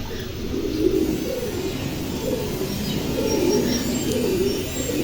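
High-quality Pom pigeons coo softly and continuously at close range, a low, steady murmur with a few faint chirps above it and no talking.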